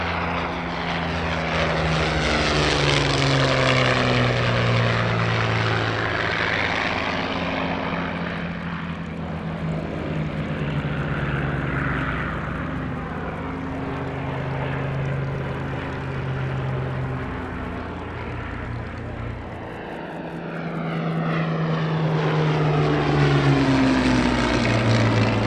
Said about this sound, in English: That aircraft was used as an escort fighter escorting US Army Air Force bombers deep into enemy territory.